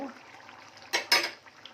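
A cooking pot holding a sour curry is lifted off the stove, giving two quick, close metallic clanks in a row against a quiet kitchen background.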